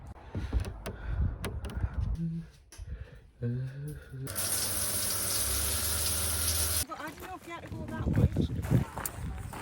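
Campsite shower at Runswick Bay running as a steady hiss of falling water for a few seconds, preceded and followed by clattering, shuffling and a voice.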